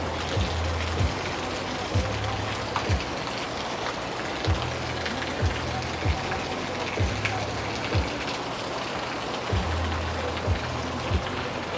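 Steady rain falling after a storm, a constant close hiss of drops with a regular low mechanical thump repeating throughout, no talk.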